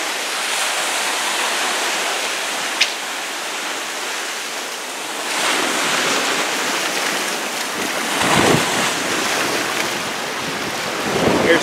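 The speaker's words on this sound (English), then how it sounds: "Waves are getting quite big." Ocean waves break and wash onto an East Coast beach near small caves, a steady broadband roar with surges swelling around the middle and end, wind buffeting the microphone, and no voices.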